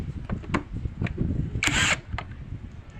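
A 48V cordless impact wrench fitted with an adapter and screw bit gives a short burst of hammering whir in the middle, close and loud, among surrounding handling clatter and knocks.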